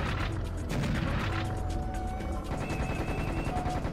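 Several loud, booming rocket explosions burst in quick succession in Serious Sam, with rumbling blasts and sharp electronic tones from game effects layered over them.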